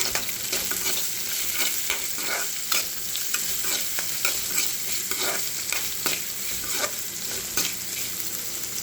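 Onion, cumin and dried chili fry in hot oil with a steady close sizzle, broken by repeated scraping clicks of a spoon stirring the pan at an uneven rhythm, no voices.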